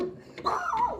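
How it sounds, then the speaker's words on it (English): A dog gives a short, whiny yelping bark, a single brief vocalization close by. "And when Bones barks, his sidekick Fudge backs him up."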